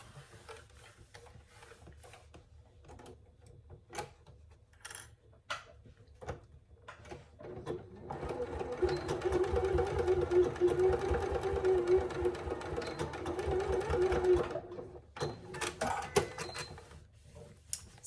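A sewing machine bastes a tab with a D-ring onto a zip pouch, a quiet run of rapid stitching ticks rising for several seconds, framed by scattered clicks and handling.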